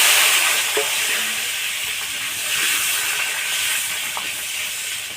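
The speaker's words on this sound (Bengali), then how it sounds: "পটল ভাজার জন্য কড়াইয়ের মধ্যে তেল দিই," Pointed gourd (potol) pieces fry in hot oil in a wok, giving a steady, close sizzling hiss that holds at an even level throughout, with a few faint clinks.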